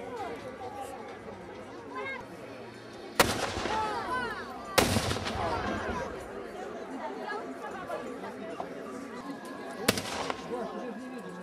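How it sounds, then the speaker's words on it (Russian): French muzzle-loading cannons fire in a historical battle reenactment, with three sharp, loud booms spaced several seconds apart over continuous crowd chatter and murmuring spectators at an outdoor event. "Французские артиллеристы четко по команде заряжают орудия и стреляют."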